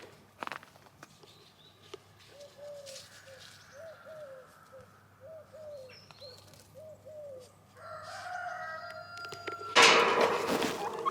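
Soft clucking and cooing from chickens and turkeys in a quiet, cold yard, a few footsteps, then a louder rustle near the end.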